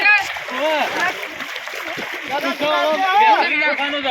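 Water splashes during Holi (Dhuleti) play, with splashing and sloshing heard under loud, excited shouting and talking from several people.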